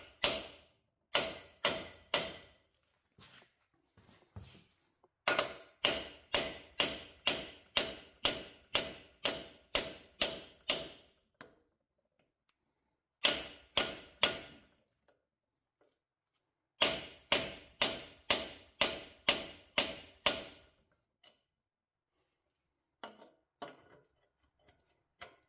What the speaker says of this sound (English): as I tap it, you'll notice that the pitch will change when it starts to seat.